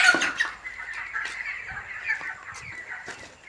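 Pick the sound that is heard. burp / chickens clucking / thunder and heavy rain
chickens clucking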